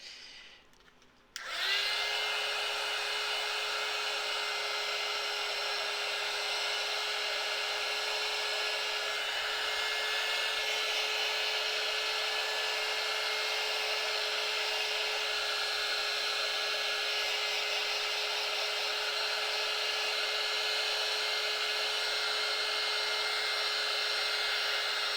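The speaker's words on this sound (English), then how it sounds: "I'm gonna give these a quick blast with the heat gun as well." A heat gun blows a steady, loud whine with a strong hiss over polymer clay faux fused glass pendants, switching on after a brief quiet moment and running continuously at close range.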